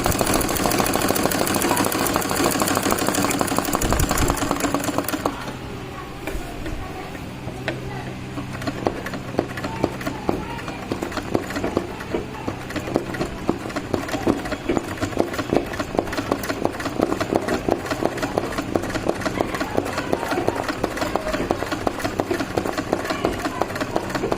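An ordinary domestic sewing machine runs jumping-stitch embroidery on cloth, its needle hammering in a fast, even mechanical rhythm that continues steadily, a little busier and louder during the first few seconds.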